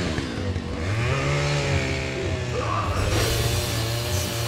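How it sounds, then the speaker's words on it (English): A chainsaw revving in Resident Evil 5 gives a loud, close buzzing drone. Its pitch rises and falls in revving sweeps, and a harsher burst comes near the end. "Chainsaw! There's always one."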